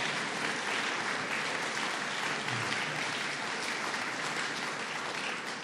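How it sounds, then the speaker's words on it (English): A crowd applauds Cardinal Dolan at a governor's event on an education proposal, a dense, even roar of clapping that continues steadily for several seconds without any speech. "Let's give Cardinal Dolan another round of applause."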